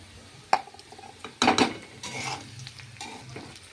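Potato and green chili fry in a pan as a spoon stirs and scrapes against the metal, with sharp clinks over a continuous sizzle, close up and with no talking.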